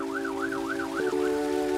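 A wailing cartoon fire truck siren rises and falls in a steady rhythmic sweep over a constant tone, fairly loud and close, like a small toy emergency vehicle.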